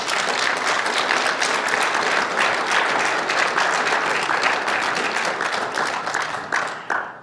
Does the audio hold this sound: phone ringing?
no